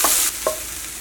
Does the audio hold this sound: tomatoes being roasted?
yes